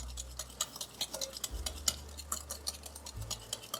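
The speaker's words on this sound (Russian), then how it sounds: "Перемешиваю." Kefir pizza dough with salt and a pinch of sugar is stirred in a bowl with a utensil, giving a close run of quick, irregular scraping and tapping clicks throughout, with no voices.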